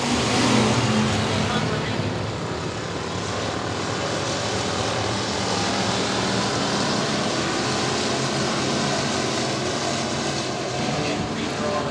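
Race cars roar around Boothill Speedway under a green flag, a loud, continuous engine drone with no break across the whole stretch.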